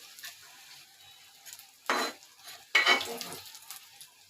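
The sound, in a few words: fried fish being lifted out of the frying pan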